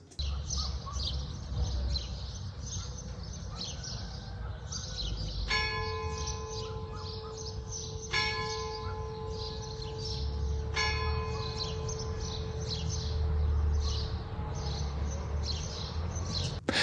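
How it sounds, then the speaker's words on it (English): Clock tower bells ring out in the early morning, three resonant strikes a few seconds apart that hum and decay, while birds chirp and tweet steadily in the background with faint ambient noise. "We were between 2 clock towers, and they went off every 15 minutes, but this was early in the morning."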